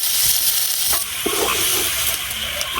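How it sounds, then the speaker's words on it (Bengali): Chopped garlic and onion fry lightly in a pan for a taki fish bhorta, giving a steady close sizzle with occasional stirring scrapes throughout. "আজকে মাছ ভর্তায় পেঁয়াজ আর রসুনটা কিন্তু হালকা ভেজে দিলাম।"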